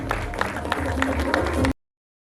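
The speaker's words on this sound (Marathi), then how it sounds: "प्लीज मंचावरती या एकदा जोरदार टाळ्या आपल्या सगळ्यांचा लाडका श्रेयस कल्पना यांच्यासाठी झाला पाहिजे" An audience at a stage event claps and cheers for an actor called onto the stage, a busy wash of applause and crowd noise that stops abruptly partway through.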